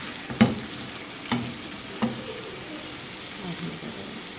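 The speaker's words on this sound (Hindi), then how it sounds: "इसको तवे या बड़े फ्राई पैन में आप फ्राई करें।" Mutton brain masala frying in a pan or tava, a steady low sizzle broken by three sharp stirring clatters early on and softer scraping toward the end, with no talk.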